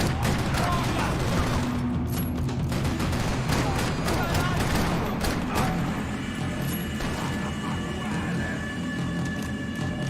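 Rapid bursts of gunfire in the video game Max Payne 3 crackle and pop repeatedly, with sharp shots and booms over a dense rumbling background, and a voice talks intermittently in Portuguese.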